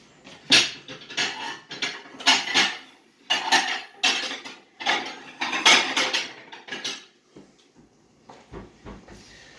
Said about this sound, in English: Sorry for all that noise, but I was looking for a plate with a nice big lip on it.